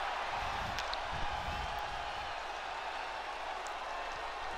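Steady crowd noise from a virtual arena audience in WWE 2K24, cheering for Shawn Michaels with Kane at ringside; a continuous, even roar with faint scattered claps throughout, no talk on top.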